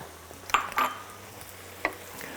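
Parmesan cheese being mixed into a warm dish in a pan: a faint sizzle with a few quick scraping stirs of a spoon against the pan, close by and with no voices.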